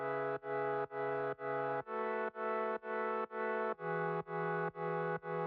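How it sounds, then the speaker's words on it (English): Sustained slap house synth chords with heavy distortion and stereo effects, played in a steady pulsing rhythm of repeated stabs that shift pitch every few beats. "This is what the chords sound like with the mixing effects."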